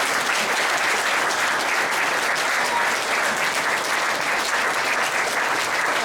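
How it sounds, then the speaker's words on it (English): Wedding guests applaud enthusiastically, a dense, even wash of clapping that holds steady for the whole six seconds with no voices on top. "can we give them a round of applause?"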